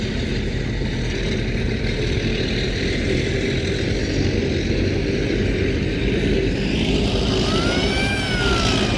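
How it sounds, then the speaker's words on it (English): A Soviet T-34/85 tank at Tankfest 2024 rumbles with a heavy, steady engine drone throughout, near and loud, with a rising mechanical whine near the end as it draws up close. "the tank that has just drawn up behind me, and I can tell you which it is without even turning around to look"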